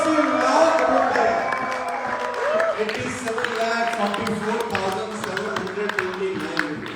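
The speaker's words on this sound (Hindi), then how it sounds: "जोरदार तालियां होनी चाहिए" Audience applause and cheering in a large hall at an anniversary award celebration, a steady roar of clapping with whoops running the whole time, loud and close, under music.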